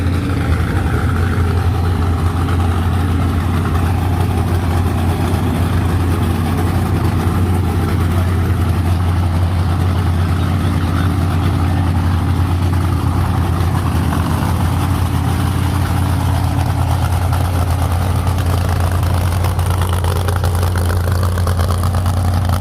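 The modified engine of a car idles in a steady, loud, low drone with a strong constant hum and a rough, throbbing texture, holding unchanged throughout with no voices.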